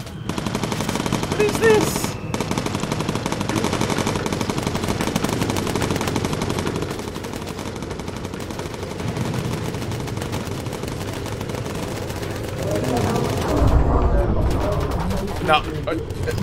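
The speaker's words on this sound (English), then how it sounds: "How is he strafing?" Enemy aircraft strafing with machine guns in the game Bomber Crew, a dense continuous rattle of gunfire under excited talk from players throughout.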